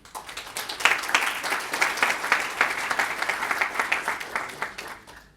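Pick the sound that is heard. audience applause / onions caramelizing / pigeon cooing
audience applause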